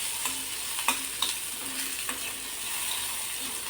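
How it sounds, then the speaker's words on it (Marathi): Chopped onion sizzles steadily as it is stirred and sautéed in a pan for tomato chutney, with a spoon scraping the pan at regular intervals over the constant frying hiss. "थोडासा मऊ होईपर्यंत आपल्याला परतून घ्यायचा आहे कांदा"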